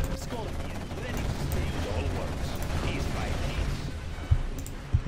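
Video game gunfire from Command & Conquer Zero Hour, GLA faction, in a steady stream of rattling weapon and mechanical battle noise, with a couple of sharper thuds near the end.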